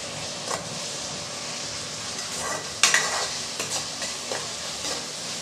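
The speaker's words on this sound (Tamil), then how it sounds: "இப்போ இது ரெண்டையும் நல்லா பொடியாக கட் பண்ணி வச்சுருக்கேன் அதை சேர்த்துடலாம் சேர்த்து நல்லா வதக்கி விட்டுறலாம்" Chopped tomatoes sautéed and stirred in a pan for a kara kuzhambu curry, with a steady soft sizzle and occasional scraping stir strokes, one sharper clatter midway; no talking.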